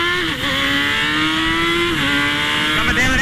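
Honda CBR900RR race motorcycle screaming up through the revs on a racetrack, a loud, close, sustained engine whine with brief dips at gear changes.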